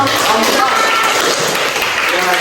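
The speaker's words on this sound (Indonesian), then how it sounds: "kita beri aplaus dulu kelompok" Classroom applause for a student group, a dense burst of clapping from many hands filling the room, steady and loud throughout.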